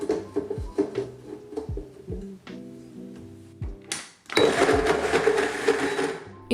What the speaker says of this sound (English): Blend, preferably not with a random lid.